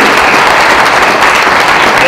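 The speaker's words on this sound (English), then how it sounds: "We can clap for that." An audience at a city's state of the city address breaks into sustained applause, a dense, loud wash of clapping filling the hall without pause.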